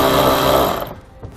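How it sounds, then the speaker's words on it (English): A ratchet with a 10 mm socket whirs steadily while removing a ground nut on a 2018 Hyundai, running loud for under a second before cutting off into near quiet. "The ratchet is already on the nut. It's going to use a 10 millimeter socket."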